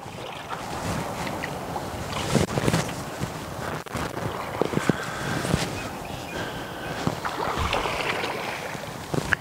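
A canoe paddle draws through water to pull the boat toward shore, giving soft, irregular splashes and swishes outdoors under steady wind noise.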